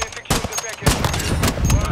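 Rapid gunfire bursts in a first-person shooter video game, sharp and loud shots repeating over about two seconds, layered with game sound and some speech.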